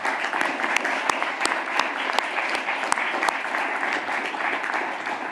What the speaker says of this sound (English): I think here we can clap.